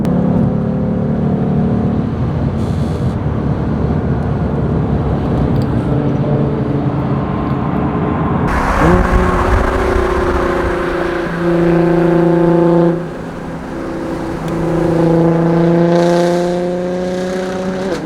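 A car engine accelerates hard at full throttle during a fuel challenge, a loud, steady drone that climbs through rising harmonic sweeps and shifts as the revs change, with no talk over it.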